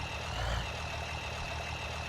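A big tractor engine idles in a survival farming video game, a steady low diesel rumble with a faint whine above it, continuous and even for a couple of seconds.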